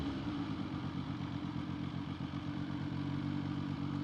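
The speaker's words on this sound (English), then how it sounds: "Quick shifter doing its job there." A motorcycle with a quick shifter rides along at a steady mid-pitched engine note, with a brief dip as a gear changes, heard close and continuous without talk.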